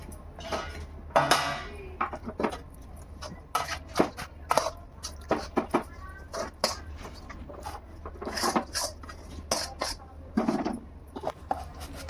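Hot puffed-rice laddu mixture scraped from a pan into a plate, a steady series of close metallic scrapes and clinks from a spoon against the pan, irregular and repeated throughout.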